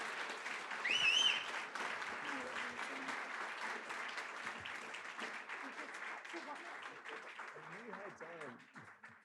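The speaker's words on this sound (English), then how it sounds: "Round of applause." Wedding guests clapping during a ceremony after vows, a soft, fairly distant patter of applause with voices talking and exclaiming over it.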